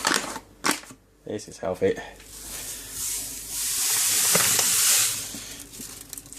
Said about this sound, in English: Put all of this entire massive bag of sugar in.